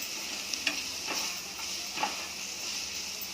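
Cauliflower and potato dry masala sautéing in a pan, a soft steady sizzle with a few faint stirring scrapes, quiet and close throughout.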